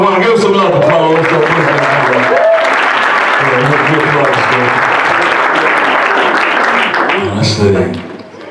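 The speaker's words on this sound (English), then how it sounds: "Give us some love, applause." A crowd at a poetry slam, the Peabody MLK Poetry Slam, claps loudly and steadily, with voices and shouts mixed in, before the applause drops away at the end.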